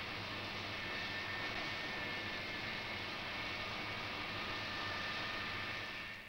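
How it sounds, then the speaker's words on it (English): Gas compressor station in 1970s Britain driven by industrial versions of Rolls-Royce aero engines, a steady loud turbine roar with a faint high whine, unbroken and constant throughout. "But compressors are noisy"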